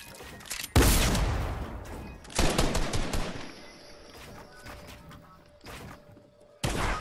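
Gunfire in a first-person shooter video game, sharp loud bursts of rapid shots, one big opening volley followed by scattered shorter strings of fire and a final burst, with a faint background hum between.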